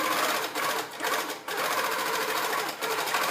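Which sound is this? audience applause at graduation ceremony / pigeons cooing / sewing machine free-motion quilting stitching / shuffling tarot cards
sewing machine free-motion quilting stitching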